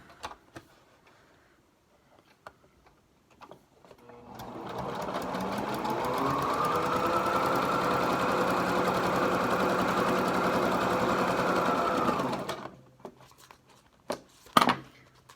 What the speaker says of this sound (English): you're going to sew those together with a narrow seam